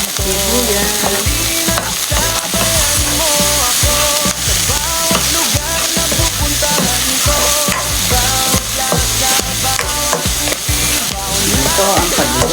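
Garlic and then onion sautéing in hot oil for sinigang, a loud, steady sizzle and crackle with scraping stirs, continuous and close throughout.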